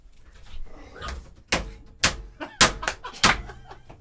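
A dog barks four times in loud, sharp bursts spaced about half a second apart, close by, over a murmur of quieter background noise.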